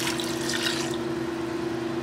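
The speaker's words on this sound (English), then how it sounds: "I'm going to add in 1 more cup of beef broth" Beef broth poured into an Instant Pot, a steady close liquid pour with a splashy rush that eases after the first second.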